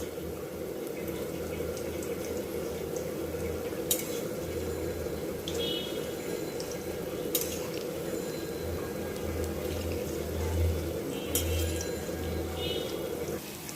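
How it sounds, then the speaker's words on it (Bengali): Pointed gourd fritters are turned while frying in oil in a wok: a continuous close sizzle and hiss, with a few sharp utensil clinks and scrapes at intervals. "পটলের বড়াগুলো এখন আমি উল্টে পাল্টে ভালো করে ভেজে নিব"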